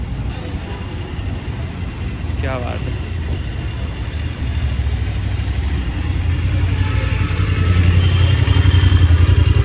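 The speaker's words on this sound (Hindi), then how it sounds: "ये लो जी अपनी बाइक आती हुई।" A BMW motorcycle engine rumbles low and steady as the bike arrives, growing louder toward the end amid road noise, with people talking over it.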